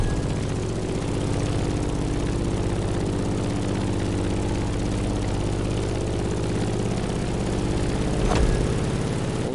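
A propeller airplane engine in the racing game The Crew Motorfest, a steady droning hum with a rough low throb that holds evenly throughout, swelling briefly near the end.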